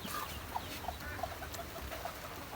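Ducks and chickens on a rainy farmstead, giving a few faint, scattered clucks and chirps over steady background noise.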